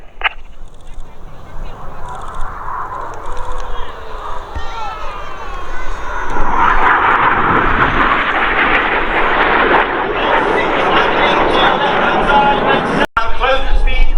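Red Arrows jets make a display pass at an airshow. A distant jet roar builds into a loud, broad rushing swell that holds to the end while a commentator talks over it on a public address.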